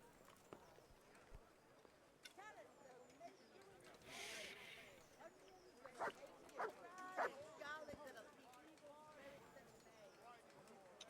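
Several quick barks from a dog in the medieval video game Kingdom Come: Deliverance sound in a short cluster amid low game ambience and soft footfalls, fairly quiet, with a person talking over it.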